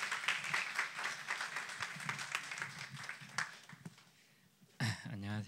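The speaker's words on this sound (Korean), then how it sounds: "큰 박수로 맞이해 주세요." Audience applause welcoming a speaker at a church youth forum, steady clapping that fades out and is followed by a voice speaking at the end.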